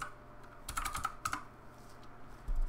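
Password keystrokes on a computer keyboard during a MUD text game login: two quick bursts of clicky taps, close and clear, over a faint background hum.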